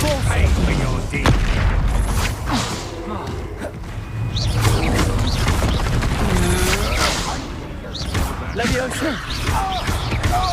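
Spell explosions and combat effects in Hogwarts Legacy, loud booms and crashes mixed with whooshing magic and game music, with voices talking over the fight.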